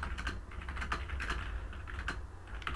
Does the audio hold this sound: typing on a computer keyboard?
yes